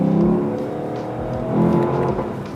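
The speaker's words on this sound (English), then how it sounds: "The normal acceleration sounds beautiful, but when it shifts, it reminds me of like a Lamborghini Huracan" Lexus LC engine accelerating and shifting inside a tunnel, a loud echoing roar with rising pitch that dips briefly at a gear change and then climbs again, heard close with reverberant tunnel wash.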